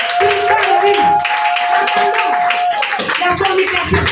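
A church congregation claps and cheers in praise during a French-language sermon, a dense steady wash of hands and voices with a sustained sung or shouted tone riding over it throughout.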